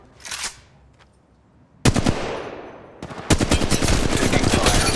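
Gunfire from the Apex Legends Mobile video game: a single sharp shot, then bursts of rapid automatic fire that grow into a dense, loud, sustained volley.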